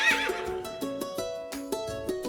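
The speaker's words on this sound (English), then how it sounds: "Baby horses go neigh!" Baby horse (foal) neighing on a farm, a loud whinny at the start followed by rhythmic bursts, heard close with no talking.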